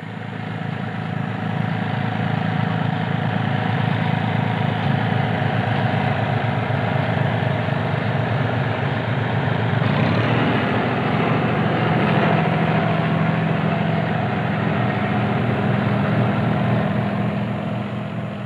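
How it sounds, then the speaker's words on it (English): An 80-horsepower four-wheel-drive farm tractor carrying a three-point-linkage topper runs in the Fens in 1974, giving a steady, unbroken engine drone close by with a low rumble, a slight shift in tone midway and no voices. "The unit is built around an 80 horsepower plus four-wheel drive tractor"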